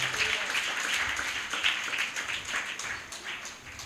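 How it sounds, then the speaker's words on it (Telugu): Congregation clapping during a church sermon: a dense, continuous patter of many hands clapping in rhythm, fairly even in loudness and slightly fading toward the end, with no clear speech over it. "చప్పట్లు కొట్టి దేవుని నామాన్ని కనపరుద్దామండి."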